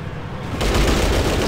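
Burst of gunfire in the tactical game Fallout Tactics, a sudden loud rapid volley breaking in after a quieter moment and sustained to the end.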